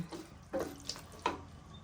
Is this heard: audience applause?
no